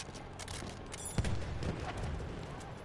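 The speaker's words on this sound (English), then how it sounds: "The artillery tank is shooting at me" Heavy gunfire from an artillery tank in a first-person war shooter, a burst of booming shots and crackling fire with one sharper blast near the middle amid continuous battle noise.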